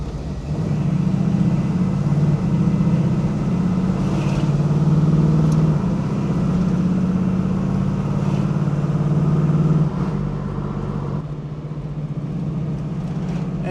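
A 1971 Chevrolet Camaro Z28 383 cubic inch stroker V8 runs steadily and loud while driving, its low rumble rising gradually through the revs, then easing off near the end.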